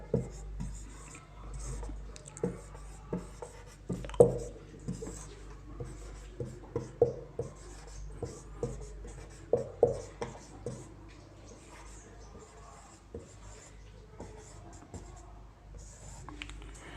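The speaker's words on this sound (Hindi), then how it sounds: "दूसरा लिखते हैं" Chalk or pen writes out numbers in a math class, making intermittent scratchy strokes and taps, faint and close, with brief gaps between them.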